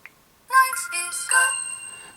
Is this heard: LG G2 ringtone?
yes